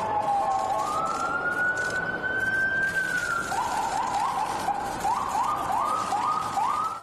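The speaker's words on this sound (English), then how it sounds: "as sirens blared in the background." Police sirens blare outdoors near a church across the road, one long rising and falling wail followed by rapid repeating yelp cycles, loud and continuous over steady street and traffic noise.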